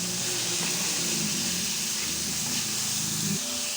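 Beef tenderloin sizzling in a pot with garlic and onion, a steady loud hiss and crackle throughout with no pause.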